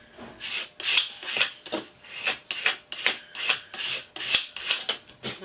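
Dried glue scraped off a mixed media faux wood background in steady, repeated raspy strokes, about a dozen close rubbing passes with no one speaking.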